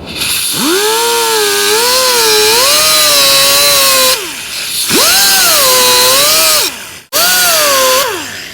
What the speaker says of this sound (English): I'm gonna try and cut this off so I can put another hose on it and hose clamp it.